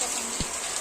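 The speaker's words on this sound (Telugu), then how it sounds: "ఇదిగోండి ఎంత వర్షం పడుతుందో." Heavy rain pours down in a village, a steady broadband hiss of drops lasting throughout, with one brief low thump partway through.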